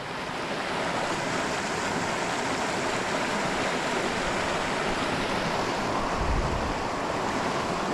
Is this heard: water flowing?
yes